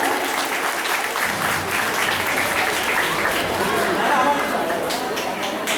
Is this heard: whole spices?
no